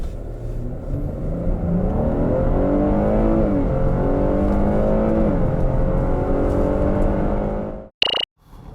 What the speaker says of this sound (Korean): 자, 그렇다면 과연 이 XT6가 얼마만큼의 가속 성능을 보여줄 수 있을지 한번 볼까요?